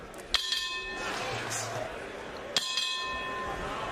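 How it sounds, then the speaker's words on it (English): Two sharp ringing clangs of a boxing ring bell at a bantamweight championship fight, each decaying slowly over crowd noise and a commentator's talk. "The bell in round number 2."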